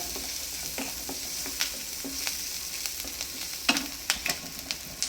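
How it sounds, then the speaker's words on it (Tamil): Mushrooms deep fry in hot oil in a pan, giving a continuous steady sizzle broken by scattered sharp crackles and pops, close and moderately loud, with no talking. "மஷ்ரூம்ஸு டீப் ஃப்ரை பண்ணுங்க"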